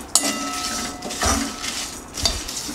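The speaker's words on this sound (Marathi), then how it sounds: "आपण याला भाजून घेऊया. फक्त 4 ते 5 मिनटंच आपण याला भाजायचं आहे." Whole garam masala spices dry-roast in a pan, heard as a few sharp metallic clinks and scrapes of a spoon against the pan with rattling spices between them, close and intermittent, with no voices.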